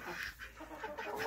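Chickens puffed up on their roosts inside a coop during extreme winter cold give short, soft clucks and murmurs in a close, brief burst.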